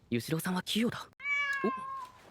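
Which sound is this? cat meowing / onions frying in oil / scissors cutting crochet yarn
cat meowing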